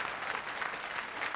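Studio audience applause on the Russian TV game show Pole Chudes (Capital Show), a steady, dense wash of clapping at moderate level with no talk over it.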